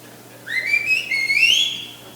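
A single whistle is blown at a football season preview event, a bright rising shrill tone in two connected bursts, fairly close and clear over a quiet background.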